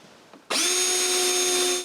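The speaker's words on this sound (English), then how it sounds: "I begin by screwing one wedge to the moving window" A power drill starts abruptly and whines at a steady high pitch, loud and close, running continuously for over a second as it drives a screw into a wooden wedge on a window.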